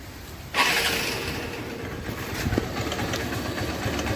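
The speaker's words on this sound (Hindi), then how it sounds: "आपको अभी मैं गाड़ी स्टार्ट करके दिखाता हूँ।" A Hero Honda motorcycle engine with an abnormal ticking fault starts with a sudden burst, then idles in a steady, close run with faint mechanical ticks underneath.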